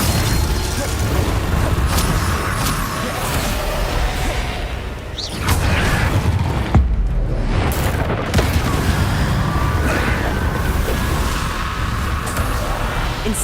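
An Incendio fire spell cast in Hogwarts Legacy, a loud booming blast with whooshing bursts that fill the clip, briefly dipping mid-way before the roaring impacts resume.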